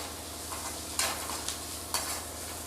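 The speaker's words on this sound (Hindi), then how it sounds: "मैं हल्दी को अच्छी तरीके से मिला लूँगी।" A spoon scrapes and stirs turmeric powder into onions frying in a pan for paneer bhurji, giving a few sharp clinks over a soft, steady sizzle, with no talking.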